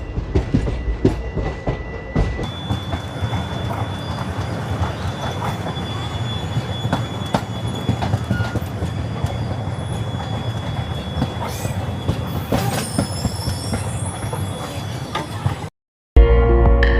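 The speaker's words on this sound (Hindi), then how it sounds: "Passenger train." Passenger train on an Indian railway line rolling past close by, a long steady rumble of wheels with sustained high metallic squealing and rhythmic clatter, ending abruptly.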